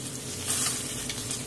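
Steak searing in a hot pan with butter and thyme added, a steady close sizzle with faint crackle, no voices.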